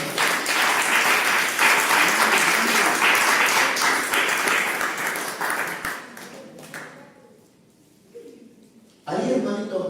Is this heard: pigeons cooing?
no